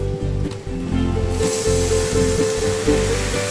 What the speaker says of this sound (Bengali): এবার এতে আমি জল ঢেলে দেবো